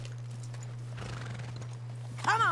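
A horse in Red Dead Redemption 2 clip-clops along with faint hoofbeats over a steady background hum, then lets out a loud, rising neigh at the very end.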